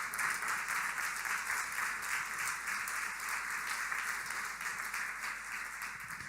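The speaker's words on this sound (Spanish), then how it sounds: "Algunos aplaudieron, los otros no, pero bueno." A church congregation applauds during a sermon, steady mixed clapping from many hands that fills the room for several seconds and tapers slightly toward the end.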